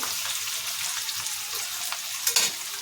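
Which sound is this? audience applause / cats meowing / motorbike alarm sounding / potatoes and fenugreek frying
potatoes and fenugreek frying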